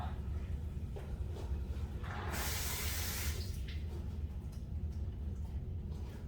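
Tap water runs briefly into a sink while a shoe tongue is rinsed, a soft splashing rush in the middle of an otherwise quiet low hum.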